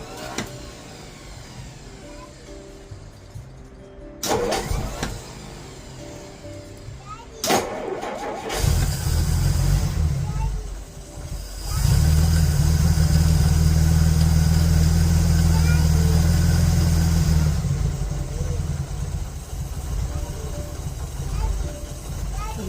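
A Dodge engine with a Stromberg BXVES-3 carburetor cranks, catches and settles into a loud, close idle that surges and steadies, with people talking over it.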